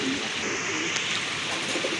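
Pigeons at a market stall, including large golla pigeons, coo faintly and continuously beneath a steady wash of broadband background noise.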